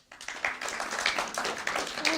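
An audience claps and applauds steadily for about two seconds, a dense spread of hand claps with a few louder bursts, filling the room without any voices on top.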